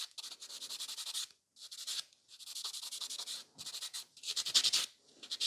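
A gel nail is filed with a hand file in bursts of fast, even back-and-forth strokes. The rasping is close and soft, with short pauses between passes.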